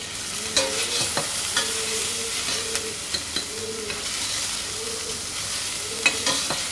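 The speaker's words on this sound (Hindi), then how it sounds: "अब इसको थोड़ी देर भून लेंगे।" Chopped onion with ginger and garlic frying in a pan for a chicken filling, a steady sizzle under repeated scraping stirs of a spoon, close and fairly quiet.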